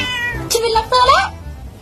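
A jealous, angry cat lets out two loud, close meows, the second rising and drawn out, over a faint background hum.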